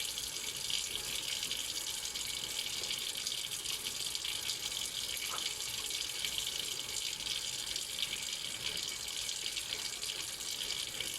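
Very hot water runs steadily into a container for homemade liquid laundry detergent, a constant faint hiss and splash with no talk.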